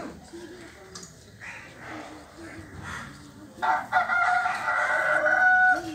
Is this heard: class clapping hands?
no